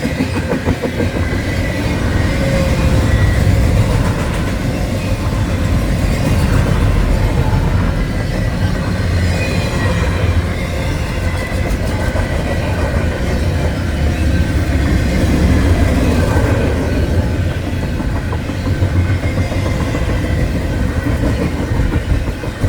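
A Norfolk Southern freight train rumbles steadily past up close, heavy wheel clatter and rail noise filling the whole stretch as the distributed power unit and cars roll by, with no talk.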